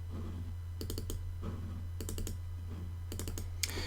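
A computer mouse double-clicking while closing items on screen, several crisp paired clicks repeating in small bursts, close and quiet over a steady low hum.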